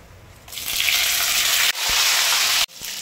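Whole spices drop into hot oil in a pan and fry with a loud, close, continuous sizzle, broken by two brief cuts before the hiss resumes.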